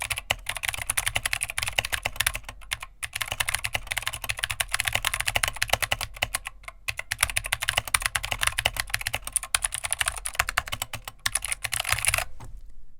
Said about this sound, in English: here is how it would sound when you start typing